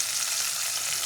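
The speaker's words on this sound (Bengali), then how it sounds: "টমেটোটা দিয়ে ভাজার সময় আর একটু নুন দিয়ে দেবো, যাতে টমেটোটা খুব তাড়াতাড়ি নরম হয়ে যায়" Chopped tomato frying with spices in a pan, giving a steady, close, even sizzle with no voices and no pauses.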